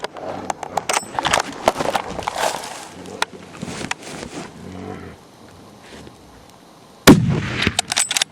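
Rifle shots during a spring brown bear hunt in Kodiak, Alaska: several sharp cracks spaced irregularly outdoors, with a loud close blast near the end and faint rustling between.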